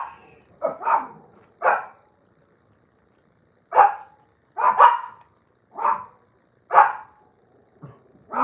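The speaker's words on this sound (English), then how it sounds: "my dog decided to do a stellar appearance here" A dog barks indoors in short, sharp bursts, about eight barks in uneven clusters with a long pause partway through, fairly close and loud, with no talking over it.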